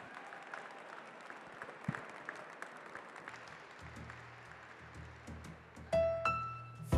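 Audience at an annual dinner applauding, a steady wash of clapping from a room full of people that carries on at an even level, with a few louder bursts and a swell near the end.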